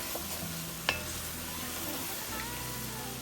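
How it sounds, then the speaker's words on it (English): Seasonings for a spicy andouille sausage and shrimp gumbo gently frying and being stirred in a pot, a soft, low sizzle with one brief utensil clink; quiet and without voices. "We're gonna stir and fry that all together."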